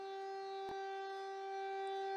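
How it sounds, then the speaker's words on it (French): Alert siren at an earthquake anniversary commemoration in Le Teil, a steady, sustained wail heard from a distance, with a brief click partway through. "La sirène d'alerte a retenti, vous l'entendez, à 11h52 précise"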